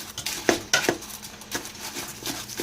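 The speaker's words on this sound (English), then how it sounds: "now I'm just going to give these a quick stir" Frozen seafood is stirred in a pot for gumbo, giving several sharp metallic clinks and scrapes of a utensil against the pot over a soft steady sizzle, close up.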